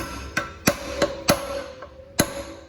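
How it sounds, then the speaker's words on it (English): A hammer taps a chisel against the valve cover of a 2009 Honda CR-V, five or six sharp metallic knocks at an uneven pace, close and clear, with a faint ringing tone between strikes and no talk. "We're going to use a little bit of a chisel."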